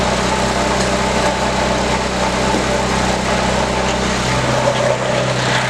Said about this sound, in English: it's kind of loud. Like I said, I have full exhaust.